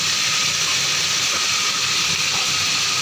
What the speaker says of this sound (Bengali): হালকা ভাজতে হয় সজনার ডাঁটা।